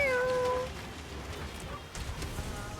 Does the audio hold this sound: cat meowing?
yes